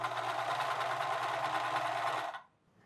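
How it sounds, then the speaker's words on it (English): Sewing machine stitching a fabric cap seam from bottom to top, a steady rapid whirring run that stops abruptly near the end, close and alone. "I'm going to run a stitch from the bottom up to the top"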